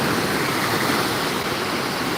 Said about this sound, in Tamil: வேறு லெவலில் அலையோட சீற்றம் இருக்குது